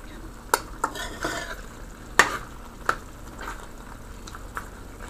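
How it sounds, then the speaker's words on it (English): A spoon scrapes and knocks through a pan of beef and potato stir fry, making several sharp strokes and clacks over a soft, continuous sizzle. "give it a quick stir."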